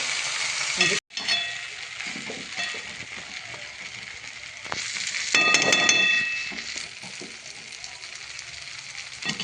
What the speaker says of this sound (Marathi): कोथिंबीर टाकून छान परतवून घ्यायचं